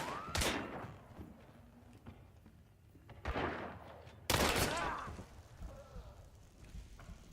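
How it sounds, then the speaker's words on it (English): Pistol and rifle gunfire in the video game Hunt: Showdown, with three sharp, loud shots spaced a second or more apart, each followed by a brief echoing tail over quiet ambience. "I have to go engage him with my pistol"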